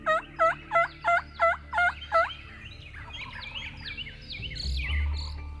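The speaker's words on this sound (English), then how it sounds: "We heard a couple of birds gobbling right at daylight" At daylight, a wild turkey gobbles in a clear burst of rapid, evenly spaced notes. Fainter gobbles and songbird chirps follow from farther off.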